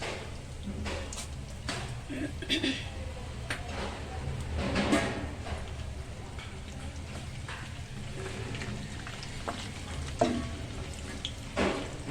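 Cumin and mustard seeds sizzle in hot oil for a tempering, a continuous crackling hiss with scattered pops and a few light stirring clinks, close and steady.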